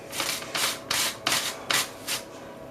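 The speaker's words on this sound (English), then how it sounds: "It's washed, so we'll just literally grate it." A washed potato is scraped by hand across a grater in a kitchen, making six evenly spaced rasping strokes, each a short loud scratch with brief pauses between them.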